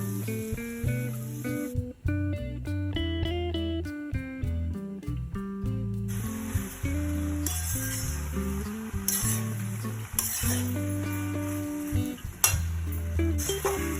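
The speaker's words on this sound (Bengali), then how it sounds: "একটুখানি নাড়াচাড়া করে নেব যাতে পাস্তার মধ্যে মশলা সমস্ত ঢুকে যায়" A spoon stirs pasta with mayonnaise and spices in a pan, soft scraping and sizzling buried under louder background music.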